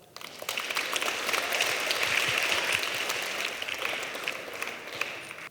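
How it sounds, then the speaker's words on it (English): An audience at a Model United Nations event in Žilina gives a sustained round of applause, dense clapping that stays loud and steady throughout with no talk over it. "Give yourselves a really honest round of applause."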